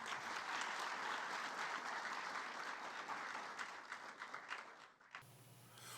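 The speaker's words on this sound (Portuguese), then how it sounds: "fica registrado nossa salva de palmas" Audience applause at a ceremony after a diploma award is announced, a dense round of clapping that thins out and stops abruptly near the end, leaving a low hum.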